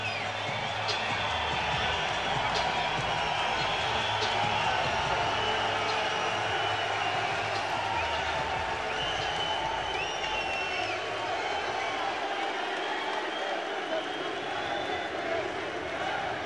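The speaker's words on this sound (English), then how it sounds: "electric crowd at SSE Arena, Wembley in London" Large arena crowd at SSE Arena, Wembley in London roars in a sustained, steady wash of cheering and applause ahead of a welterweight fight, with a commentator's voice faintly mixed in.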